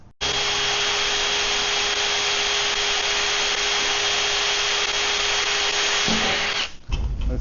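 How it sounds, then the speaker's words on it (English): A power drill pre-drills a hole while building a powder coating oven, a loud, steady whine that runs for about six seconds and then stops abruptly, with no talking. "All right, let's pre-drill."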